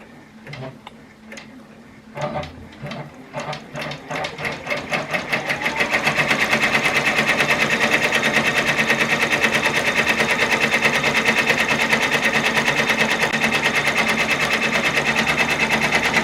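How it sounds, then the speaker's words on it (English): Embroidery machine stitching a zigzag then satin stitch around an appliqué, starting with slow separate clicks that speed up into a loud, fast, continuous mechanical rattle, close up. "It's just doing the zigzag stitch first, and then the proper satin stitch will go over the top."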